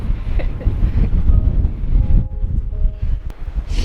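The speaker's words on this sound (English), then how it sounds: "Quite windy." Strong wind buffets the microphone in heavy, rumbling gusts, with faint rustling in the background.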